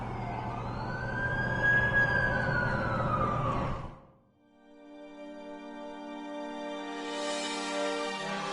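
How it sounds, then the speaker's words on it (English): A wailing ambulance siren arrives in The Amazing Spider-Man 2 video game on PS4. It sweeps up and down prominently for about four seconds, then cuts off and gives way to sustained musical tones. "That's the ambulance I called."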